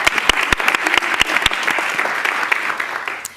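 Dense, continuous clapping from an audience at a school board meeting, steady and close for the whole stretch, with no voices over it.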